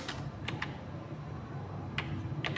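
Computer keys clack in a few sparse, crisp taps over a low steady room hum during data entry in Tally ERP-9 accounting software, near and fairly quiet, with no speech.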